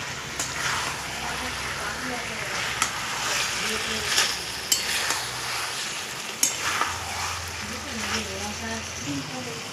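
Goat meat stir-frying in a pan during kosha cooking, a steady soft sizzle with occasional scraping stirs, moderately quiet and close, with faint background noise.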